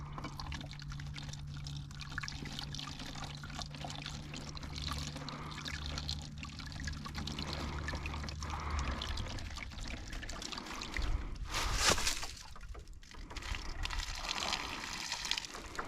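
Worm bin leachate pours and trickles steadily from a container into a compost bin, a soft continuous liquid stream with a louder splash near the end.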